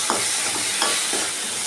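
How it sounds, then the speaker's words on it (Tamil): Tomatoes sauteing with salt for a mutton gravy give off a loud, steady sizzle close up. A few soft stirring scrapes sound against it, and nobody speaks. "தக்காளி நல்லா மாவாக வதங்கட்டும்."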